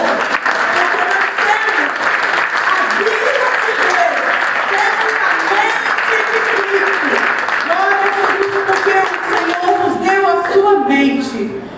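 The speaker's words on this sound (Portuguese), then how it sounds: "E por isso vamos dar um aplauso ao Senhor." A church congregation applauds at an Easter supper service, sustained loud clapping filling the room, with a voice speaking over the applause.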